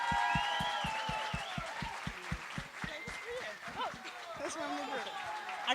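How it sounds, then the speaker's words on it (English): Audience applause after a storytelling event, steady clapping with a rhythmic thumping beneath it, mixed with voices talking and a tonal hum over the start. "please give them a round of applause again."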